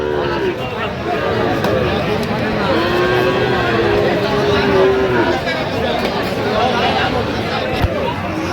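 Sahiwal bulls at a Faridpur livestock market; a drawn-out low moo rises over dense crowd chatter and general market noise, with people talking nearby.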